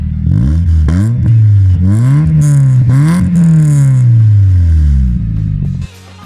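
Mazda MX5 with a Rocket Bunny body kit revving hard through its side exit exhaust: loud, close blips and sustained rises in pitch, then a sudden drop to idle near the end, with no talking.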